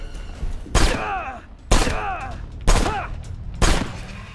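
Gunfire in the video game Left Alive: four loud, sharp shots spaced about a second apart, each followed by a ringing, descending echo tail.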